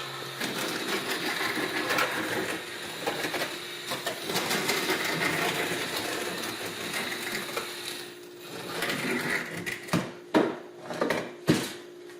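Floor leveler is mixed in a bucket with a power drill paddle, a steady whirring churn for most of the time, then several short bursts of mixing at the end.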